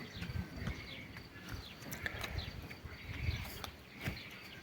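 A mare's hooves clop irregularly on hard ground nearby, the horse shifting and stepping, with faint birdsong and outdoor ambience.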